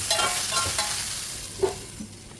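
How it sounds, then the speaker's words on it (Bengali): Bottle gourd and egg curry stirred in a pan with salt, a soft continuous sizzle with a couple of light spoon scrapes, close and fairly quiet. "একটু ভালো করে নেড়ে নিতে হবে"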